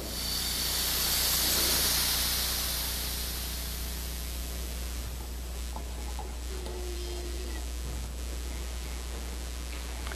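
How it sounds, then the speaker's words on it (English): Oxygen bleeds from an oxy-acetylene cutting torch as a loud, broad hiss that swells at the start and then fades to a weaker steady rush, with a few faint clicks and no speech. "Close the torch valve and bleed the oxygen the same way."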